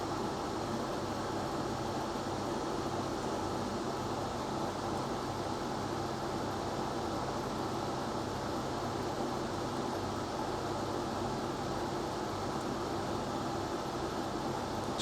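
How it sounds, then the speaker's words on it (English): Lidl SilverCrest portable air conditioner running on its lowest 16-degree setting, giving a steady, even whir with a fan-like hum that holds unchanged and fairly loud throughout, with no talk. "I've set the aircon unit to the lowest setting, which is 16 degrees"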